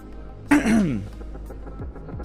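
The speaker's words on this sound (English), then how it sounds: "Sorry for coughing so much today." A single harsh cough bursts out close to the microphone during a live game stream, then tails off into a throaty rasp, with quiet room noise before and after.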